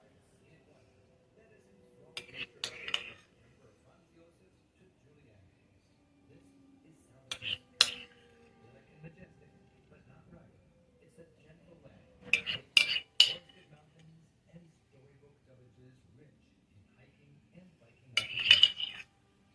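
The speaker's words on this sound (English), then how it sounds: "we're just going to scoop it back in the eggs" Egg filling is spooned back into halved egg whites, heard as four short clusters of light metal-on-dish clinks and scrapes separated by quiet pauses, with faint low voice-like murmurs in between.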